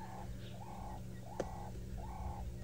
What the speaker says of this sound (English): I'm getting the doves now.